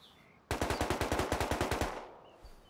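Rapid automatic gunfire in the survival game Rust, about a dozen evenly spaced shots in a tight burst that stops abruptly, loud and close with a short fading tail and no talk.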